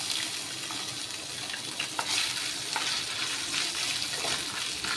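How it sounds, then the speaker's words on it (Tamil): Cashew nuts and small coconut pieces frying in oil, a busy close-up sizzle with scattered crackles and stirring clatter, steady and fairly loud. "கேஷ்நட் கூடவே தேங்காய் சின்னதாக கட் பண்ணி இதில் சேர்த்து ஃப்ரை பண்ணிக்கலாம்"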